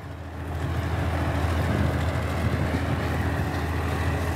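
A John Deere 5405 4x4 tractor pulls a 24-disc harrow across a large field, its engine giving a steady, continuous low rumble at close range throughout, with no talking.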